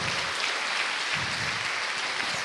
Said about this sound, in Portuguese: Se você crê nisso, aplauda ao Senhor, glorifique o nome dEle.